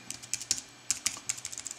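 Typing on a Bluetooth keyboard connected to an iPad: a quick, irregular run of close, crisp key clicks with short pauses and no talking.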